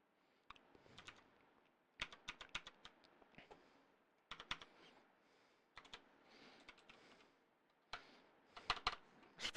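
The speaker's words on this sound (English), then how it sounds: "This fucking keyboard. I really need a new keyboard." Bursts of rapid clicking on a computer keyboard, quick clustered keystrokes separated by short pauses, close and fairly quiet in an otherwise silent room.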